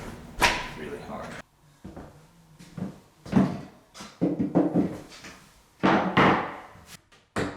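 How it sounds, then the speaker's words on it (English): A newly installed replacement front door that sticks and is hard to move is opened and closed, giving a series of sharp knocks, thuds and latch clacks in uneven bursts with quiet gaps between them. "I can open and close it, but it's really hard."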